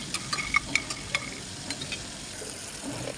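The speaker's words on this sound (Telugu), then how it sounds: "అంతలోనే నేను వేరే ప్యాన్లో కొన్ని పల్లీలు వేసుకొని బాగా ఫ్రై చేసుకుంటున్నాను." Peanuts fry in a pan, giving a soft, quiet sizzle with scattered light ticks and pops as they shift against the metal, heard close with no talking.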